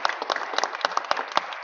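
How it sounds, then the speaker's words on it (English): Dense crowd applause at a Philadelphia public-private partnership announcement, fast overlapping claps with sharp individual hand strikes standing out, loud and close throughout. "Give a round of applause to Vincent Hughes"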